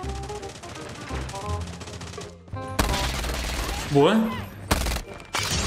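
Rapid automatic Mac 10 fire in Call of Duty Mobile rattles in dense bursts with game effects around it, while a player talks briefly over the shooting.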